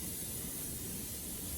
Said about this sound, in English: let's go ahead and give it a little spray